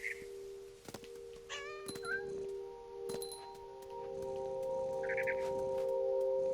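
A cat meows repeatedly in the video game What Remains of Edith Finch, a few short rising calls over a steady game music drone and ambient hum, with a bright chirping burst later on.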